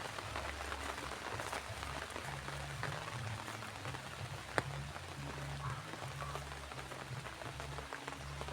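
Soft rain patters steadily on a surface, faint and even, with a low droning hum underneath and one sharp tap midway.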